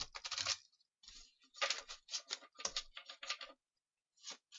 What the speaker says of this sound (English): I'm just going to give them a good shuffle.